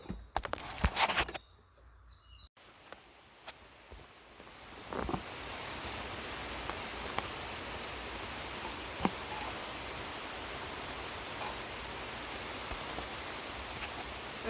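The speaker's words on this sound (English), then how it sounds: "you can't hear me over the rain hitting the plastic roof" Steady rain drums on a plastic roof over a garden, a dense, even hiss with scattered louder drops, starting after a few seconds of brief handling knocks.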